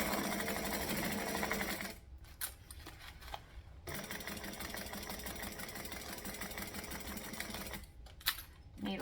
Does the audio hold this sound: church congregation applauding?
no